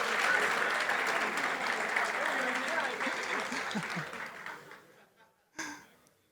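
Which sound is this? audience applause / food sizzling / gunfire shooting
audience applause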